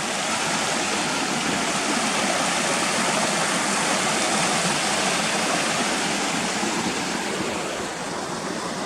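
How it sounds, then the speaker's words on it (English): Water cascades down a stream in a valley between high ridges, a steady dense rush that holds constant and fills the whole clip, with no voices. "just listening to the water cascading down"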